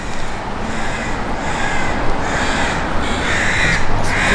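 Many crows caw loudly and repeatedly under a bridge, overlapping calls over a dense, echoing background roar of traffic or wind.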